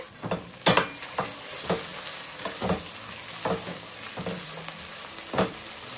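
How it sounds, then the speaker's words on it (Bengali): Medium-sized chopped onions fry in hot oil, a steady close sizzle broken by regular scraping strokes of a spatula stirring them about every half second, with no talking. "এই পেঁয়াজ ভাজতে একটু সময় লাগবে।"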